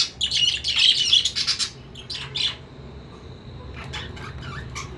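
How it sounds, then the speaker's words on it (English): A male and female pair of lovebirds squawk and chirp in loud, quick bursts while eating millet grass, then quieter scattered tweets over a low background hum. "This is one pair of lovebirds, male and female bird."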